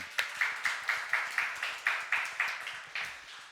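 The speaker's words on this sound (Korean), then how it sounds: "우리 박수 한번" A small audience claps together in a steady, even rhythm of about a dozen crisp beats, close and moderately loud, with no voices over it.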